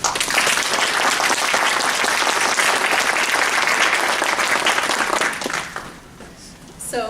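Audience applause fills a graduation ceremony hall, a dense, steady clapping from a large crowd that holds loud for several seconds, then fades and thins near the end.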